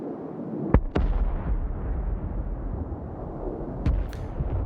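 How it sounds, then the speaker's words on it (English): In the video game Rust, jets fire nuclear missiles and the explosions roll in as a steady, heavy rumble, punctuated by two sharp distant blasts early on and another pair near the end. "jets are currently inbound and will fire nuclear missiles around the island"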